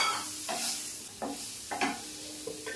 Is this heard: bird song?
no